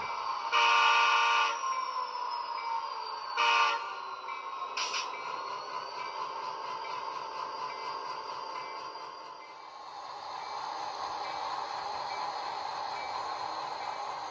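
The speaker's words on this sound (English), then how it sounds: "let's go run some trains" A DCC-EX model train runs on a layout, its horn sounding in a few short, loud tonal blasts over a steady running hum, then the hum carries on alone.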